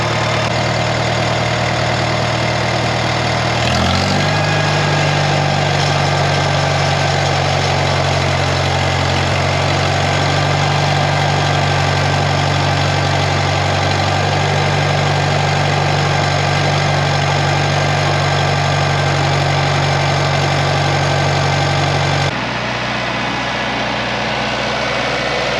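An old tractor engine idles steadily and loudly at close range, settling into a constant low rumble after a brief start and holding it for most of the stretch before the sound drops away near the end.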